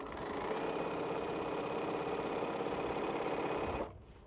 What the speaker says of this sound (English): I'm gonna use those for chain piecing with.